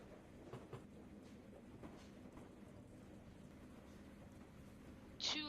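A quiet, steady rumble with faint rhythmic clatter as two locomotives haul a train of cars in a modded block-building video game, ending in a brief sharp burst.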